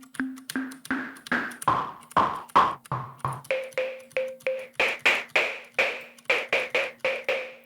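A Synth1 software synthesizer tone frequency-modulated by noise, a fast run of sharp percussive blips with shifting pitches and buzzy, noisy attacks, evenly paced and loud, without talking.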